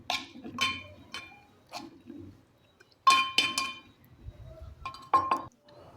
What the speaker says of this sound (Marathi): आता त्यामध्ये चवीनुसार साखर घालूया. मिक्स करून घेऊया.